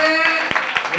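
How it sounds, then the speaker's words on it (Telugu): A church congregation at a Sunday Telugu worship service clapping in a steady rhythm, with three or four distinct claps standing out over a preacher's sustained speaking voice. "చప్పట్లు కొట్టరే."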